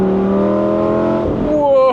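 A Lamborghini Gallardo Spider's engine roars loudly and close, holding a steady droning pitch before dipping and then climbing sharply in a rising rev near the end.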